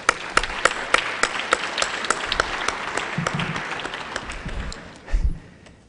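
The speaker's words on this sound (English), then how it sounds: "Please give him a big round of applause." Members in the Hawaii House of Representatives chamber give a round of applause, sustained clapping with sharp individual claps standing out, ending with a low thump.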